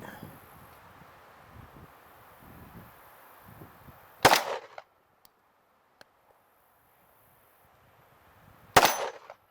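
Two sharp, loud pistol shots from a WWII German 9mm toggle-lock pistol, spaced several seconds apart outdoors, each followed by a brief ringing decay, with quiet background between.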